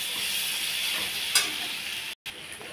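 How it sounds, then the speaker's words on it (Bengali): Fried bitter gourd and potatoes are stir-fried in a pan, a close steady sizzle with a quick scrape of stirring, then a brief dropout near the end. "এবার আমি যেই ভাজা উচ্ছেটা ভেজে রেখেছিলাম, এবার এটাও এর মধ্যে দিয়ে আবার আমি ভালো করে একটু কষিয়ে নেব।"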